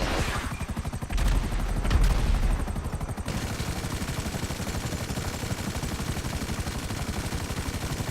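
Gunfire rattles in GTA V, a dense, loud stream of rapid automatic shots running continuously, with heavier booming bursts in the first few seconds and no talk.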